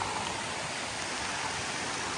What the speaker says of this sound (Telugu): ఇప్పుడు అక్కడ చూడండి ఎంత భయంకరమైన వర్షం కురుస్తుందో